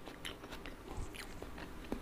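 Someone bites and chews stir-fried chicken intestines up close, a few soft crunchy bites and moist chewing sounds over two quiet seconds with no speech.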